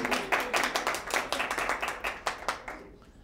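Audience clapping for the author of a poem at a Smithsonian fellows showcase, a short run of distinct, fairly close hand claps in a loose uneven rhythm, thinning out and fading near the end.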